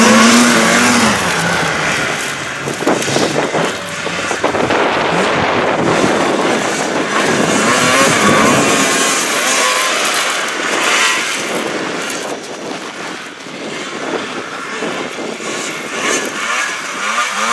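A motocross bike engine roars and revs continuously at high pitch, close by at a motocross race, with rising and falling whine and some wind noise on the mic.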